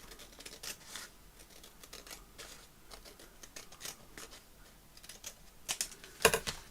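Scissors cut through paper craft material in short, crisp snips, with quiet rustling and crinkling between the cuts and a louder snip near the end.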